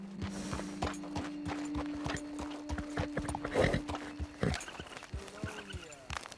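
Horse hooves clip-clop in Red Dead Redemption 2 as a rider walks the mount along, a steady rhythm of soft near thuds over a low droning ambience, with a brief louder burst midway.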